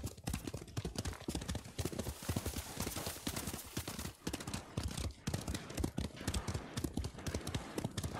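Horse hooves clip-clop at a steady galloping rhythm in the samurai action game Ghost of Tsushima, loud and close throughout, with faint whinnies mixed in and no speech.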